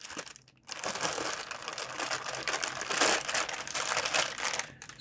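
A Gigabyte GTX 1650 graphics card slides out of its plastic bag with close, steady crinkling and rustling after a brief pause.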